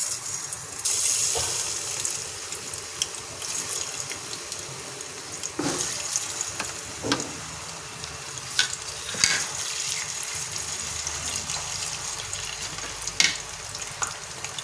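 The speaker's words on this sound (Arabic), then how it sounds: "اذا نبداو ان شاء الله نقليو البطاطا" Potatoes fry in hot oil in a home kitchen, giving a steady close crackling sizzle with occasional pops and stirring scrapes, continuous throughout with no talking.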